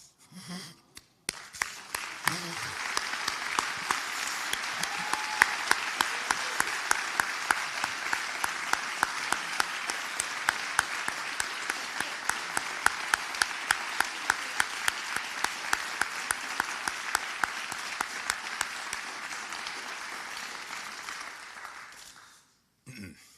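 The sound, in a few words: audience applause after a farewell address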